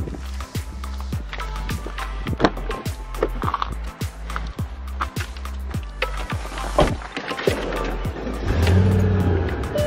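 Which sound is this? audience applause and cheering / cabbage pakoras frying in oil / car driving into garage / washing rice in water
car driving into garage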